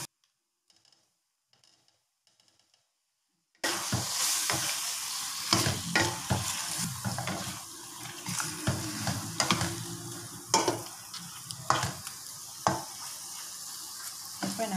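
Fish balls in sambal sizzle in a pan after a near-silent opening, with frequent spatula clicks and scrapes as they are stirred, the frying close and moderately loud.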